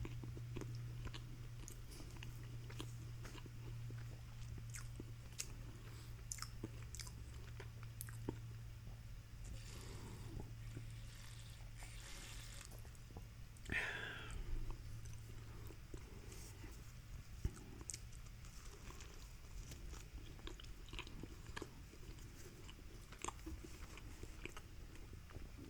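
Close, soft chewing and biting of Portillo's hot dogs smothered in sauce, steady wet mouth sounds with occasional crunchy bites over a low constant hum, no talking.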